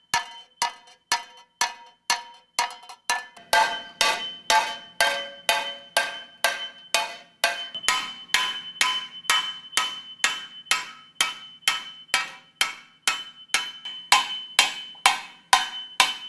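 A hammer beats a metal body into a bowl shape with a long, steady run of bright ringing strikes, each blow chiming like a bell and decaying before the next, close and regular throughout.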